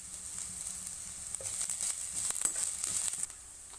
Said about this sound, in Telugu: ఇందులో నేను ఒక టేబుల్ స్పూన్ ఏమో అల్లం పేస్ట్ కూడా వేసి వేపుతున్నాను